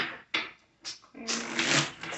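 Tarot cards are shuffled by hand in a few quick riffling bursts, close and crisp, the last burst longer and fuller, with no talk over them.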